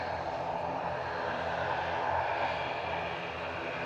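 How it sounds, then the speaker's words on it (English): A propeller aircraft departing Manchester Airport heads toward the listener with a growly, droning engine roar that swells slightly in the middle, moderately loud and steady, with no talk. "we've got a Growly prop heading towards us now"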